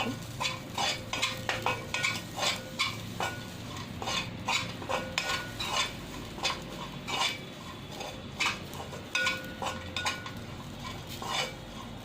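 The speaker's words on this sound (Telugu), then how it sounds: "కిస్మిస్లు అవి కూడా ఇలానే వేయించుకోవాలి కొద్దిసేపు" Raisins frying in a pan while being stirred: steady light clinks and scrapes of a spoon against metal in a quick, regular rhythm, over a soft background sizzle, no voices.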